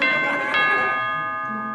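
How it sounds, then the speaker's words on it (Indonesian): A doorbell rings indoors with a single bright chime that rings on and slowly fades. It is near and clear. "Bel bunyi."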